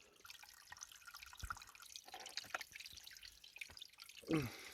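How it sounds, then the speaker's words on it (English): A small mountain spring trickles, dripping and splashing faintly nearby, with quiet irregular plinks against soft outdoor background noise in Canterbury. "I think this is a spring."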